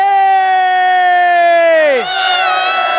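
A long sustained shout sinks in pitch, then an audience at a motivational talk breaks into loud, close cheering and whooping on cue.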